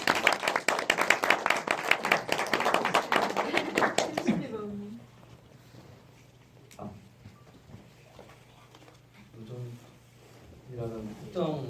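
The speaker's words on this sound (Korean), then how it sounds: "그럼 오늘의 요정님들 박수 좀." An audience claps at a talk event for the film Fairy. Lively clapping lasts about four seconds and then fades, after which people speak quietly.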